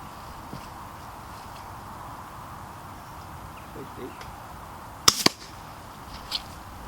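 Silenced air rifle shots from a .177 Krall and a .25 calibre gun fire outdoors. A sharp pair of cracks lands near the end, with a few fainter pops around them over steady background hiss.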